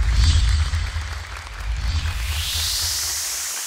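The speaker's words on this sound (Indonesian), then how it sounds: "Boleh tepuk tangan sekali lagi untuk Royana dan juga Hamzah." An audience at a Quran recitation competition claps in a steady wash of applause that fades slowly toward the end.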